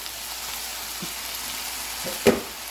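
Potatoes frying with ground lamb in grease: a steady, soft sizzle runs throughout, with a few small pops and one sharper crackle near the end.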